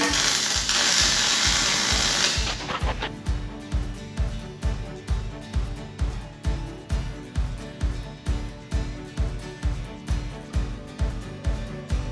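Bolts being worked loose on a John Deere, likely with a ratchet: a steady run of sharp, evenly spaced mechanical clicks roughly twice a second, loud and close, following a few seconds of louder hissing noise.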